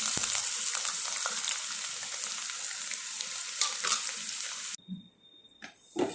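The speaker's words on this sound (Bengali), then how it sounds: "এই পেঁয়াজটা ভাজা হয়ে গেছে" Chopped onions fry in hot oil with whole spices such as cardamom, cloves, cinnamon and a dried chilli, a close, steady hiss and sizzle with stirring scrapes that suddenly cuts off near the end.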